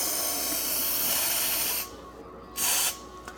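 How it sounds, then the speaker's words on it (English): Disinfecting spray hissing from a can in a long continuous burst of nearly two seconds, then a pause and a second short spray, loud and close. "so now you want to get your disinfecting spray and spray for like,"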